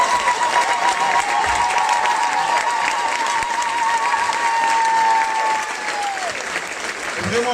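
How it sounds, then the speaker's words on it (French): Audience applause at a Cabaret Sauvage show: dense, sustained clapping from a large crowd across the whole stretch, with a held musical tone running over it and fading near the end. "Vraiment qu'on l'applaudisse bien fort s'il vous plaît"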